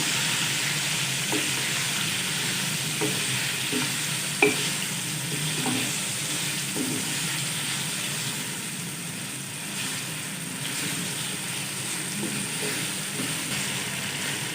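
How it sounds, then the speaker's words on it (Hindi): Marinated chicken cooking in a karahi, a loud, even sizzle running throughout with occasional spoon knocks and scraping stirs, one sharper clank near the middle; no one speaks. "मैरिनेट किया हुआ चिकन डालेंगे। दो से 3 मिनट अच्छे से कुक करेंगे।"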